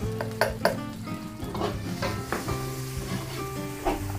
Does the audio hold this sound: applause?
no